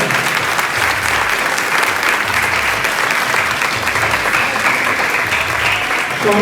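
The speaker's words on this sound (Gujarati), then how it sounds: "તાળીઓથી તેને જોરદાર વધાવો." An audience at a religious gathering bursts into loud, sustained applause, dense clapping from many hands filling the whole stretch.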